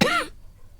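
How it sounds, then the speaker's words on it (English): A woman gives a single short, harsh cough up close, then the sound drops to quiet room tone. "She continues to cough."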